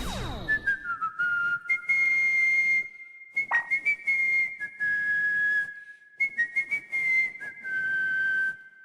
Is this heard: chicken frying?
no